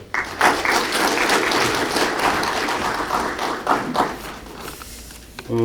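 An audience at a Korean award ceremony gives a hearty round of applause to welcome the director of the Independence Hall to the podium, dense clapping throughout that tapers off before a voice begins at the end.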